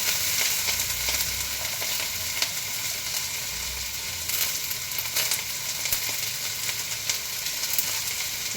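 Onion, ginger and garlic fry in a pan with a steady, dense sizzle that holds near and loud throughout, broken by occasional faint stirring scrapes.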